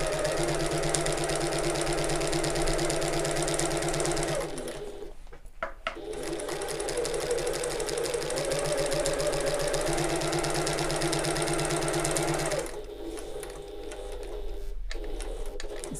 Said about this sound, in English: I'm going to sew along the bottom line.